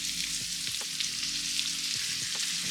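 Two diced plum tomatoes sizzle in a hot pan for a Jamaican brown stew fish, a constant close frying hiss with a few soft stirring clicks.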